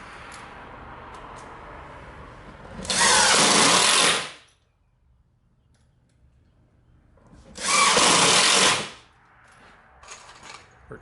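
Power drill driving screws into a wooden base drawer cabinet during assembly: two loud, sustained whirring bursts of about a second each, separated by quiet pauses, with faint handling noise between.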